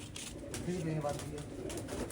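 Soft pigeon coos murmur low beneath background noise and faint voices, a few short, gentle calls in a busy outdoor setting.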